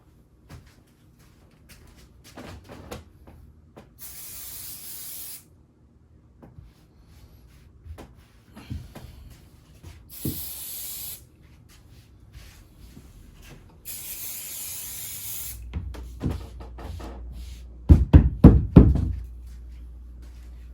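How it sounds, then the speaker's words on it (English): Several long hissing bursts of quilt basting spray adhesive, each lasting about a second, separated by handling clatter and knocks while a quilt is being backed, ending with louder bumps; no one speaks. "One of the nice things about this particular spray adhesive is that it's repositionable."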